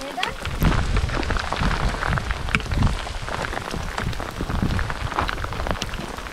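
Steady rain patters and taps on a raincoat in a dense, continuous crackle, with occasional louder drops and a low rumbling background, on the Lycian Way trail.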